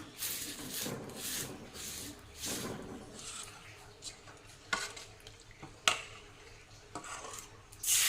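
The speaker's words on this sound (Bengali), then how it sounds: "তেল দিয়ে মুছে নিই কড়াইটা" A cloth rubs oil around a kadai wok while khola pitha is made, producing soft, uneven rubbing and scraping strokes up close with an occasional light metallic knock.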